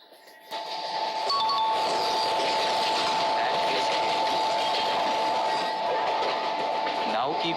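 A train in an Indian railway video game pulls away, building to a steady loud rumble with a high tonal hum, after a brief quiet start.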